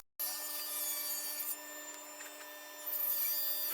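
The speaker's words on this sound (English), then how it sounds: "we're going to go ahead and resaw our mahogany" A power saw resaws a mahogany board down to quarter-inch thickness, a steady, close whining cut with a high tonal hum that dips briefly in the middle and swells again near the end.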